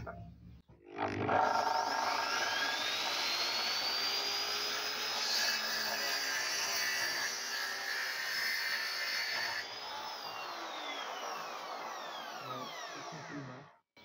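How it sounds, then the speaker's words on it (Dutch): An HBM 165 mm plunge saw cuts through 12 mm MDF, a steady high motor whine under load. It rises sharply at the start, holds for about twelve seconds, then spins down at the end, with no talking. "Nu gaan we MDF zagen."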